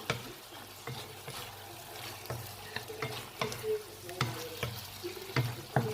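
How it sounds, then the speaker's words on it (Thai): Beef sizzles steadily in a hot wok over high heat while a utensil scrapes and stirs in irregular strokes, close and fairly quiet. "ผัดเนื้อผัดไวๆเลยค่ะ"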